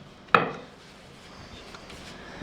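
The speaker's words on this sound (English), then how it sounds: "You can use the rolling pin to cut off the excess." A rolling pin pressed across a tart ring to cut away excess pastry, giving one sharp close knock followed by a faint dull scraping.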